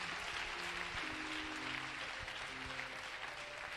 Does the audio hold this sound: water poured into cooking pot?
no